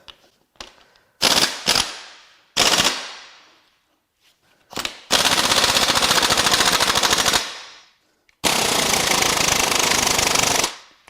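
A pneumatic impact wrench hammers at the crank pulley bolt on a BMW M54 engine, loud rapid rattling bursts of several seconds each, preceded by shorter blasts and broken by gaps of silence.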